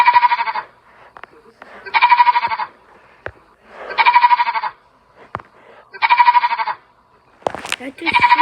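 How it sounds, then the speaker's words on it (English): A sheep bleats over and over in a game, with loud wavering calls repeating about every two seconds and short quiet gaps between them, plus a few clicks. "That's a sheep."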